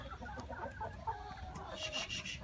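Young hens cluck softly and repeatedly nearby in a coop, with a higher-pitched call rising toward the end over a faint background hum.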